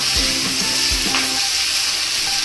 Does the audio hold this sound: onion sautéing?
yes